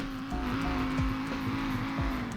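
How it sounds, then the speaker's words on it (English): Engine of an Audi RS3 in the driving game Greenville, Wisconsin, a sustained droning tone held at a fairly even pitch with faint tire-like squeals, loud and continuous with no talking. "Alright, here's another rev."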